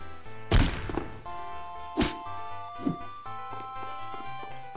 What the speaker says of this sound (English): But I'm assuming I destroy all the rocks